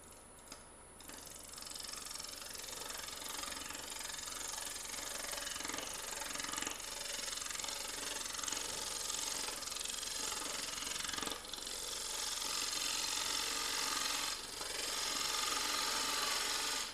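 A gouge cutting into spinning wood on a lathe, a steady rough scraping chatter with a continuous motor hum beneath, with a few sharper catches along the way.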